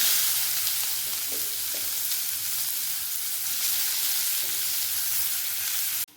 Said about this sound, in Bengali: ওই তেলের মধ্যে দিয়ে দেব কালো জিরে তেজপাতা ওর মধ্যে দিয়ে দেবো কোচানো পেঁয়াজ